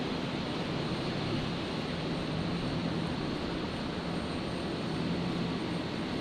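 A Qantas jet aircraft taking off from runway 01 left at Brisbane Airport at night gives a steady, distant broadband engine roar that holds evenly throughout, with no voices over it.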